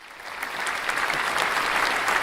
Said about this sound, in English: Yeah, we can clap for him, okay?